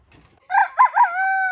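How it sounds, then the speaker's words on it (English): A rooster in a backyard chicken yard crows once, loud and close, with a rising broken start that settles into a long held final note. No other sounds compete. "so now I'm in the chicken village"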